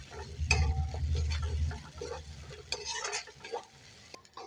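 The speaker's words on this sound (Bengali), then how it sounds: "সব মশলাগুলো ভাজা ভাজা হয়ে গেছে" Ground cumin, coriander and pepper with ginger garlic paste fry in a pan, giving a soft sizzle broken by scraping stirring strokes and light clinks of the spoon on the metal.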